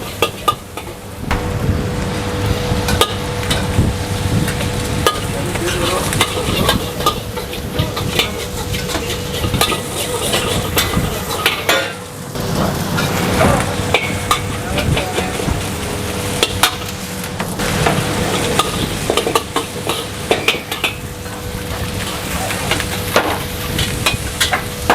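Vegetable nasi goreng being stir-fried in a wok at a busy food stall: continuous close sizzle with steady scraping and clanking of a spatula against the pan, running without a break for the whole stretch.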